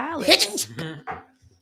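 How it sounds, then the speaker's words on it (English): A person sneezes close to the microphone in a morning radio show studio: a loud, breathy burst with a strained vocal edge, a sharp second exhale, then quieter trailing breaths as the sound fades out. "Did you just sneeze?"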